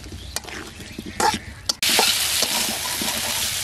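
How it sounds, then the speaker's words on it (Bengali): Potatoes sautéing with chilli powder spice paste in a pan, starting with scraping stirs and taps, then a sudden loud, continuous sizzle as the frying intensifies up close. "আলুর সাথে মশলাটা ভালো করে কষিয়ে নিচ্ছি।"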